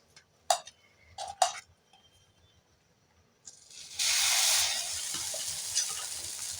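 Batter for chitoi pitha, a rice-and-biuli-dal cake, is poured into an oiled pan and starts frying. A few light taps come first, then a loud, steady sizzle hisses up and holds close by.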